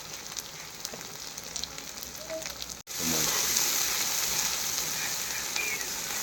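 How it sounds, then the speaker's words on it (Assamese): Cumin powder hits oil already frying ginger, garlic and chilli paste in a pan, with a quiet crackle and then a sudden sharper, steady sizzle after a brief gap. "দিছোঁ ফ্ৰাইতে এতিয়া জিৰা গুড়াও দিলোঁ।"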